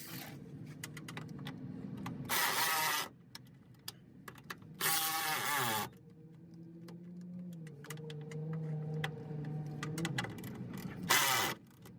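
A Teflon nut is tightened onto a car seat tie-down plate in a classic car, with soft ticking and clicking ratchet-like turns broken by a few louder bursts of buzzing mechanism noise, close up and without talk.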